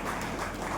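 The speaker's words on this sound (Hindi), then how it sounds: "एक बार जोरदार तालियां बजाइए।" Brief burst of dense audience applause at a company gathering in Chhattisgarh as a leader is welcomed to the stage, steady and fairly quiet throughout.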